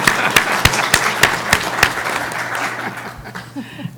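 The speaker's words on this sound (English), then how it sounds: "Please join me and give Doug a round of applause" Audience at a California Transportation Commission meeting gives a round of applause: a few sharp, distinct claps stand out over a steady patter that thins and fades toward the end.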